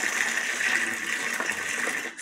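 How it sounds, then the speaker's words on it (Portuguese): Water is poured over bird cage perches made of tree branches with bark as they soak in a container. It makes a steady, fairly loud close rush and gush that tapers off at the very end. "Botar mais um pouco d'água para cobrir eles."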